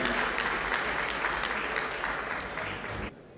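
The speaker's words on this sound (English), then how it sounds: "Please let's give our dignitaries a big round of applause" Guests at an engineering institution's awards and dinner night applaud visiting dignitaries, a steady round of clapping from a sizable crowd that tapers off and stops near the end.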